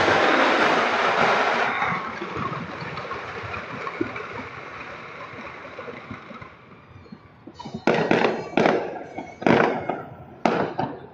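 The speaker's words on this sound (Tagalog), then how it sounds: "Fireworks ito." New Year fireworks at home burst in a loud, dense crackle that fades, followed by several sharp separate bangs near the end.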